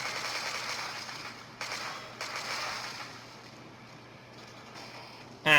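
Gunfire and explosive blasts aimed at zombies in the mobile game Unkilled, heard as a dense, steady burst of game shooting that eases midway and ends in a sharp, loud crack, with no talking.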